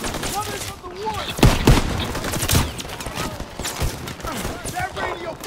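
Rapid rifle and machine-gun fire crackles through a Call of Duty: World War II battle in the Battle of the Bulge, with several louder nearby bursts amid steady distant shooting and shouting voices.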